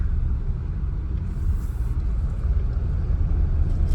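Road traffic rumbles steadily on a ghat road near Nashik, where road repair work is underway, a continuous low vehicle drone close by with no clear individual passes.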